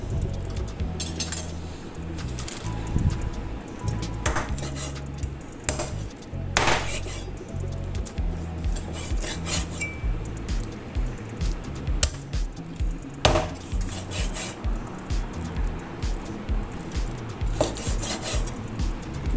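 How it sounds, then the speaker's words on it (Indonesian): Chicken chopped into small pieces in a home kitchen for a squash and long bean lodeh, a steady run of close knife strikes on a board mixed with light clinks of utensils and dishes. "Lalu kemudian ini ayamnya dicincang kecil-kecil saja ya"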